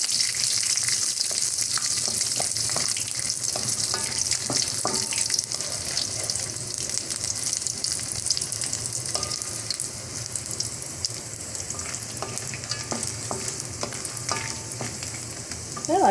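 Peanuts, garlic and chilli fry together in a pan, giving a steady, close hiss of sizzling oil with scattered pops and light stirring scrapes throughout.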